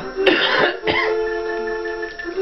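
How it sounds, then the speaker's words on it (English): A single harsh cough bursts out, then a shorter throat-clearing rasp follows, close up over a steady tonal hum. "With my cough."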